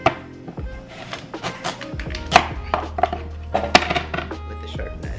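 A sharp knife chopping vegetables on a cutting board: a run of crisp, uneven knocks and slices close by, some louder strikes standing out, over a low steady hum.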